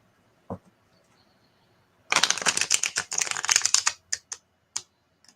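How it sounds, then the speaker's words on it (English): A deck of tarot cards is riffle-shuffled nearby. A single tap comes first, then a dense, crisp burst of rapid flutter, followed by a few separate card snaps as the deck settles, with no talk. "Let's see how they shuffle."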